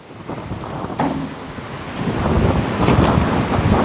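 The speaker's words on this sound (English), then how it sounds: "it's windy enough out here" Strong wind buffets the microphone in a steady roaring rush on an old Starcraft Islander boat, rising louder in the second half, with waves and water noise mixed underneath.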